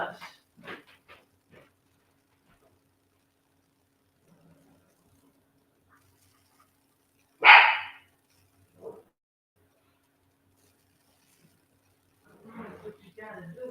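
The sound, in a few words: dog barking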